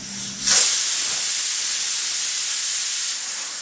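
Mustard seeds and a tablespoon of oil burst into a loud, steady sizzle for pappu, a broadband hiss that starts abruptly and holds evenly to the end, with no voices.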